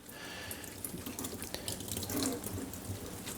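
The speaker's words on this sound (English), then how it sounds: "with a strainer, pour it all out and let that just drain in a sink" Water runs steadily into a kitchen sink as calamari is poured into a strainer to drain, a continuous splashing, trickling wash close by with no talking.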